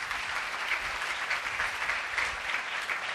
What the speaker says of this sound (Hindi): आओ ऐसे खुदा के लिए जोरदार तालियां बजाओ।